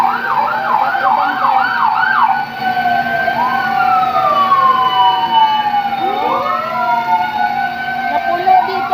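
Several fire truck sirens arrive at Pasig market, loud and continuous, with rapid yelping cycles giving way to overlapping long wails from multiple vehicles, and voices heard faintly beneath.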